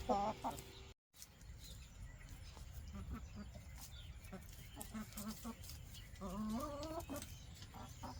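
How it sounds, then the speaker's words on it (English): Chickens cluck and murmur nearby while eating beef, with a few louder bursts of clucking over steady outdoor background noise. "a mess of chickens eating beef"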